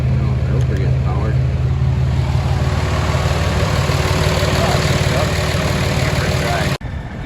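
A Caterpillar diesel engine in a Peterbilt 359 truck idles after a cold start, a steady loud low rumble with a constant hum that cuts off abruptly near the end.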